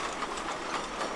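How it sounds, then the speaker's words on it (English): A train on the Gulbene–Aluksne railway slows as it nears a level crossing, giving a steady close rumble and rolling rail noise with faint clattering and no voices. "Approaching the level crossing, the train slows down."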